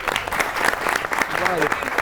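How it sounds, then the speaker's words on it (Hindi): Lively applause from a studio audience on a comedy show, a thick continuous clatter of many hands with a voice briefly audible beneath it. "कायद-ए-आज़म जिंदाबाद के लिए बहुत सी तालियां"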